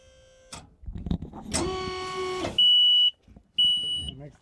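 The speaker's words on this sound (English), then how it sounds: "It makes the beep. You guys all know to come and eat." A Hanen LSF-12 automated cattle feeder gives two steady, piercing electronic beeps, each about half a second long and separated by a short pause. A brief blaring horn-like tone and some scattered clatter come before them.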